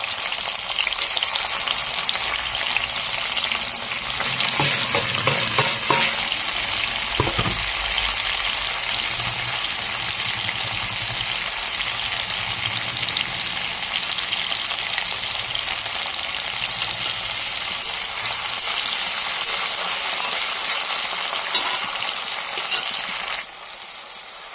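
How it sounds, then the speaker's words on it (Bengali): Onion, tomato, green chili and coriander fry in hot oil, giving a loud, steady sizzle that runs unbroken throughout, with a few stirring scrapes early on and no talking. "তেল গরম হয়ে গেছে, আমি এর মধ্যে পেঁয়াজ, টমেটো, ধনেপাতা, কাঁচা লঙ্কা সব দিয়ে দেবো।"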